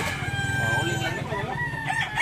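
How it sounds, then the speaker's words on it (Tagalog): A 26-month-old Talisayon breeding rooster crows close by, one loud drawn-out harmonic call that trails off into rougher clucking sounds. "Manok na ito mga idol."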